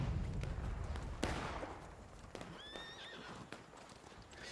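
Cavalry horses in a Civil War video game whinny in a shrill, rising call, mixed with hoofbeats and sharp bursts of distant gunfire.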